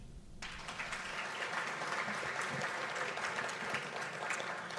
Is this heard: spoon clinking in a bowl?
no